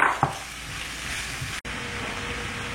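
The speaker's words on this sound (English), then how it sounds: "I will now add the finely chopped onions and we will fry the onions for about 2 to 3 minutes" Finely chopped onions fry in hot oil with spluttering cumin seeds, a continuous close sizzle that stays even with no talking.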